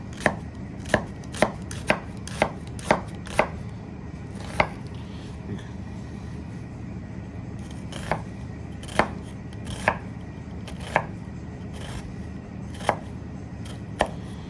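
A knife chops an onion on a cutting board, giving a series of crisp, close taps at an irregular, unhurried pace with no talking.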